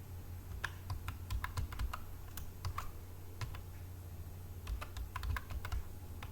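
Keys tapped on a computer keyboard while entering a command at the command line, in quick irregular bursts of light clicks with short pauses, close and fairly quiet over faint room hum.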